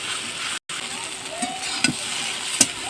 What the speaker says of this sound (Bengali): এইভাবে নাড়তে হবে করে ভাজা করে নেব